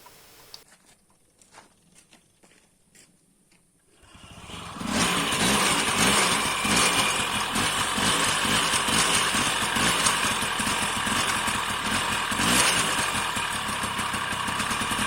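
A small engine runs on a cold morning, not yet tuned and failing to hold a steady idle, starting after a few quiet clicks and then droning loudly and continuously with an uneven, wavering tone, no one talking.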